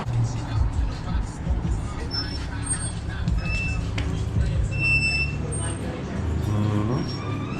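Street traffic outside a thrift store in Atlantic City, with cars and a bus passing, forms a steady low rumble with a continuous wash of noise. Indistinct voices and crowd babble sit underneath throughout.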